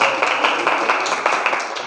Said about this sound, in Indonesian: beri tepuk tangan untuk Karendra.